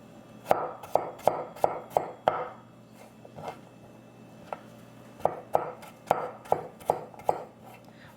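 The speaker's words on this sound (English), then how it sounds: "I just cut this little piece, and then I'm going to cut it into 4 and throw it in there also." Knife chops a zucchini stem on a cutting board in two quick bursts of sharp, close taps separated by a short pause.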